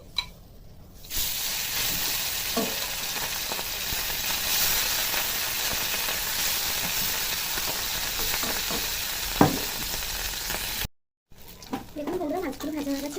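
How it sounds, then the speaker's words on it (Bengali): Remaining chapila fish frying in hot oil in a kadai, a continuous close sizzle with occasional crackles and pops, briefly cut off near the end before the frying resumes. "বাকি মাছগুলো আমি এভাবে ভেজে নেব।"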